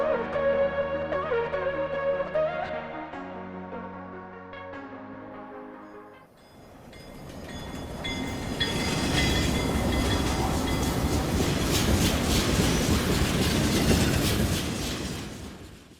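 A train rumbles steadily along the tracks, a loud, continuous roar with rhythmic clatter, preceded by a few seconds of sustained tonal music.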